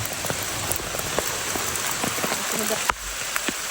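Steady rain pours in Cairns, Australia, a dense even hiss of drops striking surfaces with scattered louder patters, close and continuous throughout.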